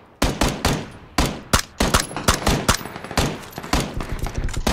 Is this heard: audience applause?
no